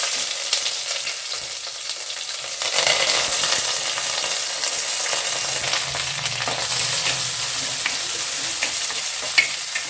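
Garlic, onion, curry leaves and green chili drop into hot oil, setting off a loud, close, bright sizzle that swells after a few seconds and keeps crackling steadily, with occasional stirring noises.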